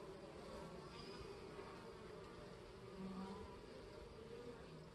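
Carniolan, Saskatraz and VSH honey bees buzz around an open Langstroth long hive during an inspection, a faint, steady, dense hum with no break.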